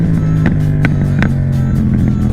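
Yamaha MT-07 motorcycle ridden while testing the brakes hard, a loud steady engine drone with rhythmic mechanical knocks or judders recurring roughly every third of a second.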